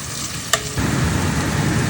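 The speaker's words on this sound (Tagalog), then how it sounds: "We're gonna wait till our bawang is brown and our sibuyas is translucent." Garlic and onion sautéing in a pan for chicken tinola: a quiet start, one sharp clatter, then a loud, steady, close sizzle that continues to the end, with no talking.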